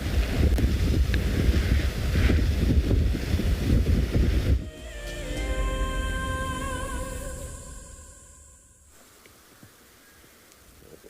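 Strong wind buffets the microphone with a loud rumbling roar on an afternoon safari in South Africa near a buffalo herd, then eases off, leaving quieter outdoor sounds.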